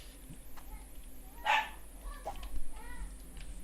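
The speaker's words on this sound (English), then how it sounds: "the fucking dog barking at everything that moves" A dog barks indoors at a distance, one clear bark followed by a couple of fainter yips, heard over a low steady background hum.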